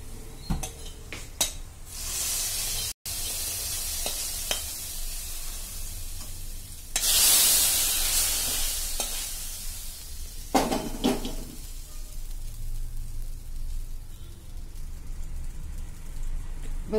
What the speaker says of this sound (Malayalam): ഇത് നമ്മൾ നേരത്തെ വേവിച്ച് വെച്ചിരിക്കുന്ന നമ്മുടെ പടവലങ്ങയിലേക്ക് നമുക്കിത് ഒഴിച്ചു കൊടുക്കാം.